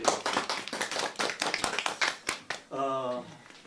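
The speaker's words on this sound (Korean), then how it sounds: "박수 한번 쳐드리겠습니다." Audience clapping during a talk by a children's poet, a burst of scattered handclaps running a couple of seconds before a voice takes over at the end.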